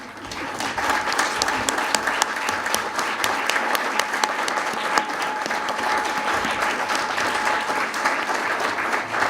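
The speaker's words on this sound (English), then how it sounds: "give them a round of applause" A crowd at a 40th anniversary celebration with Governor Phil Scott gives sustained, dense applause for a family asked to stand, a full and even wash of clapping lasting about nine seconds with no break.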